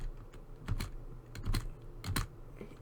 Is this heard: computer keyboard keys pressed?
yes